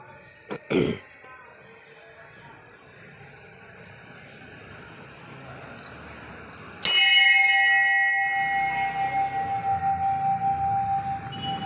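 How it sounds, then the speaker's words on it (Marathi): A bell rings at the Vitthal Rukmini temple in Devgad, with one strike near the start and a louder sustained ringing later whose tone lingers and pulses. A steady background hum sits underneath. "घंटा"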